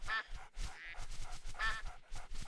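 Mallard ducks in the Duck Dynasty hunting video game give a quick run of repeated nasal quacks, fairly close and clear, with no talk over them.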